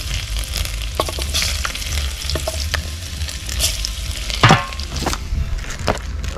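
Garlic frying in a pot, a steady close sizzle with occasional stirring scrapes and knocks on top, no speech.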